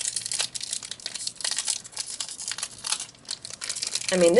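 A Japanese Pokemon card booster pack being opened, close crinkly foil rustling and crumpling with short tearing bursts, fairly loud, with a voice coming in at the very end.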